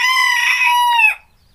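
A single loud, sustained call from a Pelung hen, bright and harmonic, lasting about a second before cutting off into silence.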